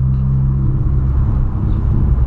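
A lowered Volkswagen Polo driving, with a steady, loud low engine and road rumble that holds even throughout without any clear revving.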